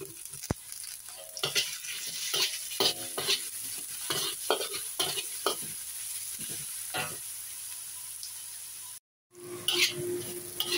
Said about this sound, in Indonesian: Tumis sampai harum. Kita masukkan kencurnya.